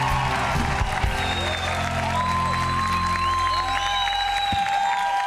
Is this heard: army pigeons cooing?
no